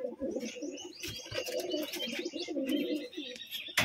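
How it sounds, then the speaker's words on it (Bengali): A male Kalshira pigeon coos in a cage, giving soft repeated throaty coos with faint chirps from other birds, fairly close and quiet, no talk. "এই হলো কালশিরা নর পায়রাটা"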